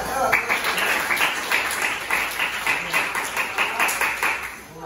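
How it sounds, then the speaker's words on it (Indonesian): Students clapping together in a classroom at an Islamic high school, a lively, dense burst of applause lasting several seconds, fairly close, with some voices mixed in. "coba kita mau dengan tepuk tangan yang meriah"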